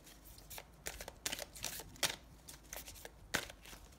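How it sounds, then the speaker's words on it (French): Oracle cards shuffled by hand in a quiet room, a series of crisp riffling and slapping bursts at an uneven pace, close and moderately loud, with no talking. "Donc on va battre les cartes"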